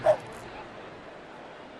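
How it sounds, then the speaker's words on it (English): A dog gives a single short yip at a baseball game at Petco Park, where hundreds of dogs parade around the warning track, followed by faint crowd ambience. "some 400 or 500 canines parading their stuff around the warning track tonight"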